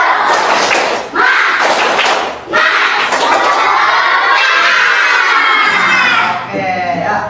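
Students in a classroom stand and perform a tepuk semangat clapping chant, with loud rhythmic group clapping and slapping bursts followed by shouted, sung voices chanting together close by.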